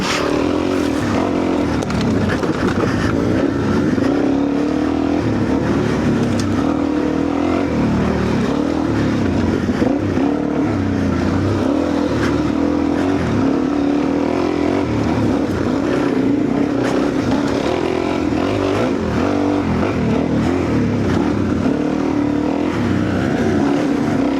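An older motorcycle, twenty-odd years old, rides alongside a brand-new fuel-injected two-stroke motorcycle, with steady, loud engine drone and shifting pitch running through the whole stretch, no talk over it.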